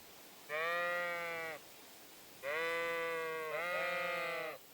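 A sheep in Kingdom Come Deliverance II gives two clear, close bleats, the second longer and wavering, with a short quiet gap between them.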